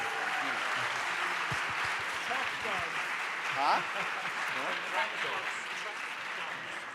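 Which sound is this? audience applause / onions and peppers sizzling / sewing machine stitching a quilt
audience applause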